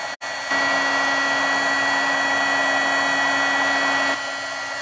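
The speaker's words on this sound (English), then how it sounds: "I would just take my heat gun" Heat gun blowing steadily while embossing a card sheet for New Year cards: a continuous, close, even whirring hiss with a steady tone, held for about four seconds after a brief click at the start.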